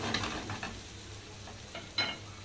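Chicken pieces and colored bell peppers sizzle on an already hot grill pan, a steady low fry with a few soft stirring scrapes and brief clinks, fairly quiet and without talk.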